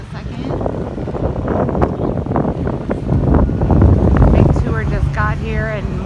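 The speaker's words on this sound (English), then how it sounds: "Sorry for the wind. It's gonna be a little windy up here" Gusty wind at the California Lighthouse in Aruba buffets the microphone with loud rumbling bursts, while a voice speaks underneath near the end.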